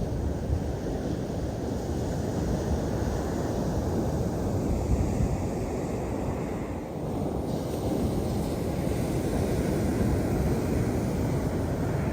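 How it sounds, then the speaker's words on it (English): Waves and surf roll steadily onto Playalinda Beach at Canaveral National Seashore during a high tide, a loud continuous wash mixed with wind buffeting the microphone for the whole stretch. "The waves have come up really high today and took one of my shoes."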